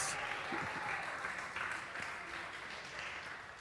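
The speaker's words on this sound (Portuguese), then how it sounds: "Pode aplaudir com vontade, igreja." Soft, sustained applause from a church congregation during a sermon, a continuous wash of many hands heard at a distance and fairly faint, without a break.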